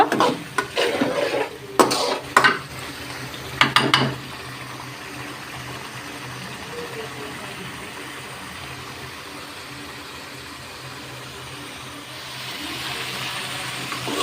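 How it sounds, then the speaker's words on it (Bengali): Banana flower curry with prawns being stir-fried in a pan: a few loud scraping stirs at first, then a soft, steady sizzle carrying on alone. "ভালো করে কষিয়ে নিব।"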